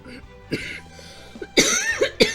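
A woman coughs several times in short bursts after taking a cough drop, close and fairly loud, with a little throat noise between the coughs.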